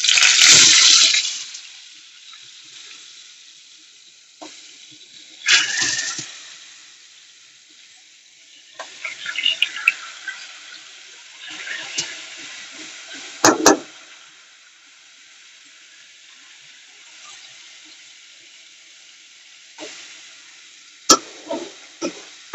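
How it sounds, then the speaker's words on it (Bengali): Poa fish frying in oil in a pan with spices, a steady close sizzle broken by several louder hissing bursts, no talk. "আর এখন যে মাছটা ভাজতে দিয়ে দিই।"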